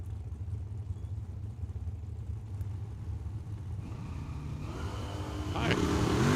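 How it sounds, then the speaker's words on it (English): A Chevelle drag car launching at Tucson Dragway, a low idling rumble under a track announcer's voice that swells into a rising, louder engine roar at the end. "And the Chevelle is going to be off and running."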